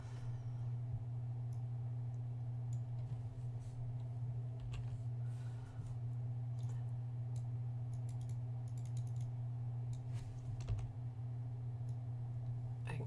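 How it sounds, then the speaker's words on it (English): A computer keyboard is typed on in scattered clicks and short bursts over a steady low electrical hum. The keystrokes are fairly faint and spaced irregularly. "when I type it gets really loud on the video."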